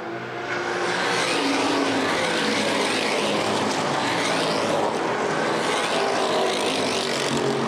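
Street stock race cars roar around the oval at Winchester Speedway, a loud, continuous engine drone from the pack building up in the first second and holding steady without a break.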